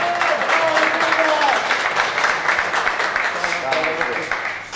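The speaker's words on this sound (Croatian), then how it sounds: "Zato ću vas zamoliti veliki aplauz za godinu dana mlađeg momka, Goran Živić" Audience applause at an awards ceremony where trophies are given, a steady wash of clapping that holds for several seconds while voices talk over it.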